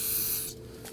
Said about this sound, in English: I'm going to spray down the rubber here with some spray solvent